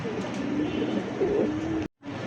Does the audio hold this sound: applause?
no